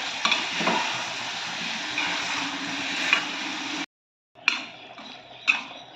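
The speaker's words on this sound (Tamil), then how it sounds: "எல்லாத்தையும் சேர்த்து நல்லா கிளறி கொடுத்துக்கலாம்" Cooked mutton being stirred through a thick masala for mutton chukka, a steady scraping sizzle in a pan with a few clinks of the spoon, broken by a brief pause before the stirring resumes.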